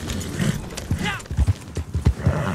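Galloping horse in the Red Dead Online video game, with rhythmic low hoof thuds at close range mixed with a brief whinny and other game sounds.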